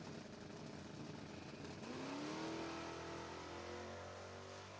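Drag race cars, one of them a Mustang, launch off the line at a bracket race, with a loud, sustained engine roar whose pitch climbs as they accelerate away.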